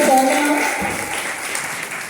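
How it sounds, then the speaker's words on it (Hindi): A crowd at an NCC girls' battalion event at a women's college in Lucknow claps steadily throughout, a dense patter of applause with a voice briefly over it at the start. "मेरे जोरदार तालियां बनती है।"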